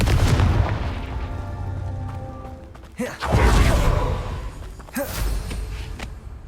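Confringo fire spells cast in Hogwarts Legacy land as heavy booming blasts, two sharp impacts a couple of seconds apart over a loud, rumbling game soundscape.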